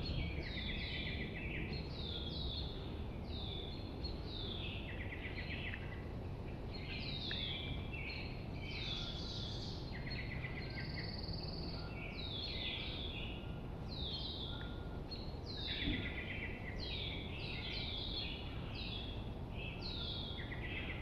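Birdsong fills a New England state forest, with American robin, red-winged blackbird, song sparrow, ovenbird, pine warbler and common yellowthroat calling in repeated overlapping phrases over a constant low background hiss.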